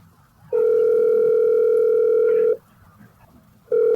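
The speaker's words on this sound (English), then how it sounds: "Unlike Jeremy, he can't multitask and pick up the phone while he's on another call." A telephone ringback tone plays before a call goes to voicemail: a steady electronic tone holds for about two seconds, pauses, then starts again, loud and clear with no talk over it.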